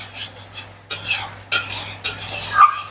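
A metal spoon stirs and scrapes spice paste being sautéed in a pan over raised heat, four rhythmic scraping strokes with a soft sizzle underneath, close and clear, with no talk.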